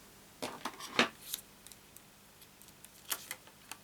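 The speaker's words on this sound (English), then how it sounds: "take a pair of scissors and just do some very gentle curvy lines" Scissors cut gentle curvy lines in card: several sharp snips and crisp clicks come in small bursts with pauses between, quiet and close, with no talking.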